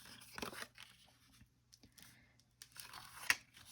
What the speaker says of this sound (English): Bone folder to burnish.